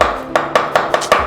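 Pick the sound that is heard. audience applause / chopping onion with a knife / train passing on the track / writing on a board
chopping onion with a knife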